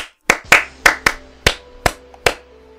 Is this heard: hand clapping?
yes